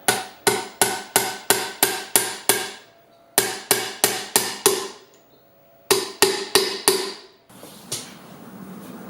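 A hammer taps a wheel bearing into a 2012 Kawasaki Ninja 1000 motorcycle wheel in three quick bursts of sharp, ringing metallic blows, each burst a rapid run of six or seven close, loud strikes.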